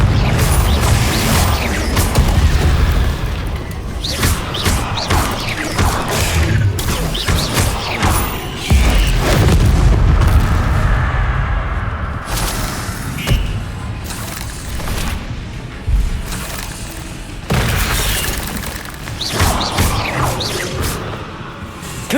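Repeated Confringo fire-spell blasts in Hogwarts Legacy during a fight with spiders, heard as a series of loud crashing bursts and thuds spread through the scene under busy game noise.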